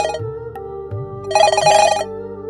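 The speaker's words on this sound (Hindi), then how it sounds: "रिंग जा रही है, स्पीकर पर रखता हूँ।" An outgoing phone call rings on speakerphone, giving a loud electronic ringback with repeated bursts of tone and pauses between them, heard close up.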